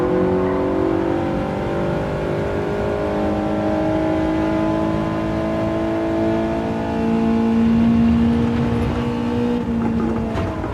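A race car engine in a racing video game holds a steady, loud drone with rising harmonic sweeps as it revs through the gears, continuous for the whole stretch with no talk.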